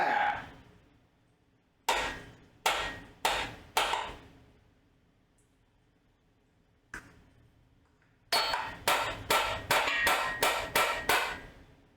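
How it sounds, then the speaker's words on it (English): Hammer blows strike a blown-head-gasket engine part during a teardown: four sharp metallic whacks, a lone hit, then a rapid burst of about seven more, loud and close with no talking. "I bet I can whack it with a hammer."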